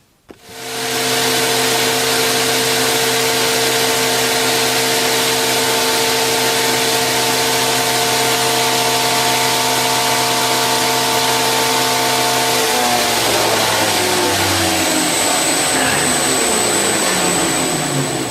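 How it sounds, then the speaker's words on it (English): A bench grinder works on a bushcraft knife, spinning up into a loud steady whine that holds, then shifts into rougher grinding contact noise near the end, close and alone. "So we'll swap over the wheel on the grinder, and yeah, do a bit more grinding."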